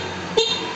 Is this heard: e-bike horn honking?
yes